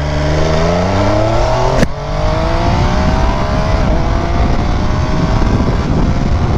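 An MV Agusta F3 RR sport motorcycle accelerates hard under a rider, its engine note climbing steadily through the gears with a quick shift break, loud and continuous with wind noise throughout.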